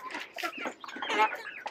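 Backyard hens in a hen house cluck and chatter softly at close range in a short burst of several overlapping calls.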